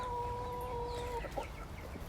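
Farmyard fowl around a feeder cluck and call softly, with a steady drawn-out tone before a few short chirps, quiet and close amid low background rumble.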